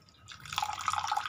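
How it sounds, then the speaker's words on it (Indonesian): Meniran herb leaves are rinsed under running water, starting with a soft trickle and then a close, busier patter of splashing and dripping that holds steady to the end. "ini kita udah cuci dengan air mengalir"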